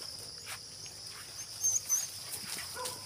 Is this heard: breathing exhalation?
no